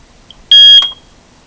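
A smoke alarm with its cover on gives a single short, loud, piercing chirp close by, about a third of a second long, in an otherwise quiet room.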